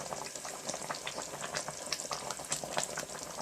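Egg being stirred into a simmering pot of hot and sour soup, with a continuous close bubbling and light sizzling texture and occasional small liquid clicks, no voices present.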